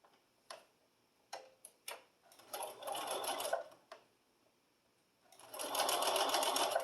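A sewing machine stitches binding onto a quilted holiday wall hanging, with short clicking bursts and pauses as the fabric is pivoted, then two longer steady runs of fast stitching, close and moderately quiet.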